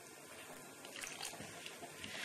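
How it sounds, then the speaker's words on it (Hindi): Lukewarm water poured little by little into a bowl of flour for bhature dough, a steady close splashing trickle with no talk. "पानी हमें पूरा एक साथ नहीं डालना है, थोड़ा थोड़ा करके पानी ऐड करते जाएंगे और आटा लगाते जाएंगे"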